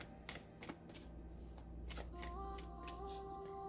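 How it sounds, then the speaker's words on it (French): Playing cards for a tarot-style reading are handled close up, with a series of quick, crisp flicks and slaps as cards are shuffled and slid back into the deck, quiet and sharp against a faint hum. "Ok, alors 3 cartes, c'est un peu trop, je vais les remettre."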